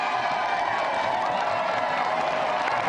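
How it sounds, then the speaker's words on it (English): Studio audience at a Gamesmaster TV show taping applauding two special guests, a steady, dense wash of clapping with some cheering and whoops, loud and continuous throughout. "So please give a round of applause for our 2 special guests tonight, Michael Duberry, Richard Rufus."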